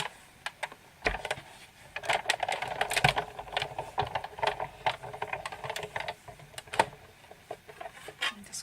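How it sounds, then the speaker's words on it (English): A Big Shot die-cutting machine cranked by hand to run a butterfly die through, giving a continuous clicking, clattering mechanical rattle with uneven bursts and sharper knocks over several seconds, close and alone without talk. "I'm going to have to bring in my big shot. It's a bit clunky under this camera, but there isn't another way to cut this."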